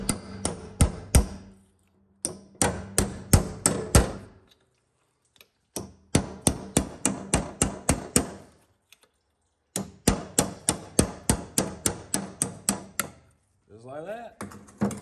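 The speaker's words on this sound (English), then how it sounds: "I like to just use my chisel, and it'll take a few minutes here to walk it around" Repeated sharp metallic taps of a chisel worked around the snap ring inside a 271-D transfer case, coming in fast bursts of evenly spaced strikes separated by short pauses, loud and close.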